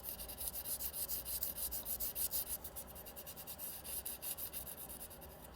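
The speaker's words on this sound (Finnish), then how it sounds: "Hellävarainen hionta maalattavalle pinnalle." Sandpaper rubs gently back and forth over the surface of a handmade fish lure before painting, soft rhythmic strokes repeating at a steady pace, quiet and close.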